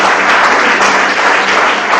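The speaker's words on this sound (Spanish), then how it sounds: "Den un fuerte aplauso al Señor." A church congregation breaks into loud, sustained applause, a dense wash of clapping from many hands filling the room without a break.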